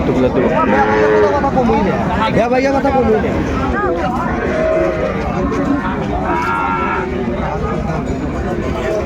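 Cattle, including Sahiwal bull calves, moo loudly and repeatedly at a cattle market, several long lowing calls close by, over the murmur of a crowd talking.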